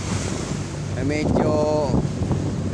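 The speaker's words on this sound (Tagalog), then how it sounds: "Malakas na rin po siya konti. At saka yung alon, medyo tumataas konti na naman ang alon natin" Strong wind buffets the microphone over rising sea waves aboard a boat heading out to open water in the morning, a steady roar with a brief spoken word and some tonal sounds in the middle.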